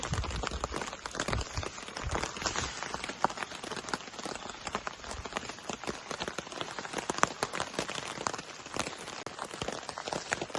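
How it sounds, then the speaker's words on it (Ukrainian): Rain falls steadily, a dense patter of drops hitting surfaces, fairly faint and continuous with no voices. "Дощ сьогодні з обіду не перестає"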